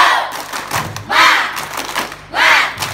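Group rhythmic spirit clap during an ice-breaking game, with patterned thumping claps from a crowd broken by loud, shouted chants from many voices in two strong bursts.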